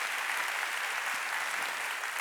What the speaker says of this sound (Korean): 박수 좀 쳐줘요